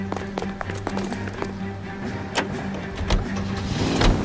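A car drives in the video game L.A. Noire: a running engine with scattered taps and clicks, building toward louder thumps near the end.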